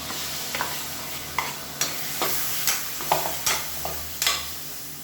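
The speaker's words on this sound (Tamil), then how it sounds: "தக்காளி சேர்த்து நல்லா வதக்கியாச்சு" Chopped tomatoes sautéing in oil for a black chickpea, brinjal and drumstick kuzhambu, with a steady close sizzle broken by regular scraping stir strokes about every half second.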